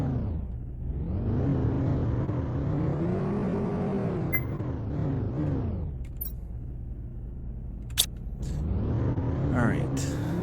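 A vehicle engine in the Planet Crafter game rumbles while driving and drifting, a low droning motor that rises and falls in pitch and sits under someone talking, with a sharp click near the end.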